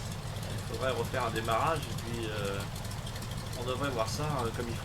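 A cold, slightly rough aircraft engine idles steadily in a flight simulator, sitting low beneath someone speaking French close by.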